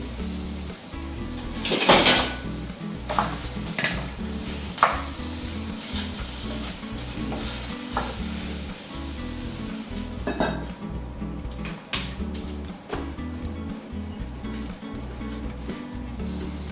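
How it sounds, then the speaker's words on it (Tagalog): Tomatoes and onions cook in a pan without oil, with a soft low sizzle under repeated clinks and scrapes of a metal utensil against the pan, some sharp knocks standing out and no voices. "we're going to cook these tomatoes and onions the healthiest way"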